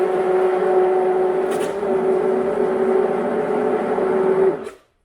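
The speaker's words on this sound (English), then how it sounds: "Hit it with this immersion blender." An immersion blender whirs steadily while blending Keto Chow with extra virgin olive oil, a constant close motor drone with a strong hum that runs for about four and a half seconds before cutting off abruptly.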